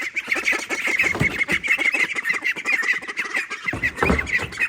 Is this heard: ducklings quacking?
yes